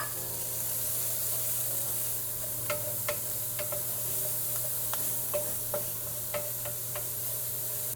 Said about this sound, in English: We're gonna cook the onion until it's translucent.